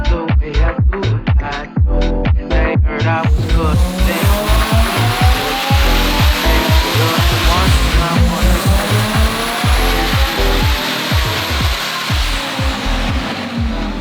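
An Audi 8Y RS3 with the boost turned up, its engine revving hard: a rapid series of sharp staccato bursts, then a sustained loud rising and falling roar with whining tones, close and very loud.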